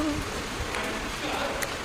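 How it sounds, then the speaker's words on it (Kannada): Rain falls in a steady, close hiss with occasional sharper drips over a short stretch. "Finally the rain is here."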